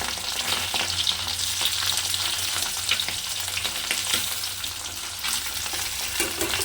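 Parshe fish fry in hot oil in a pan, giving a loud, continuous crackling sizzle with occasional stirring and turning noises close up and no talking.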